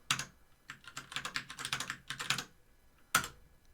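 Rapid bursts of keystrokes on a computer keyboard, close and crisp, clattering in uneven runs with short pauses and one sharp final key hit; no voices.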